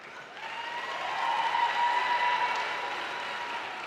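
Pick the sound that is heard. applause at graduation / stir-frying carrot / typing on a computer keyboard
applause at graduation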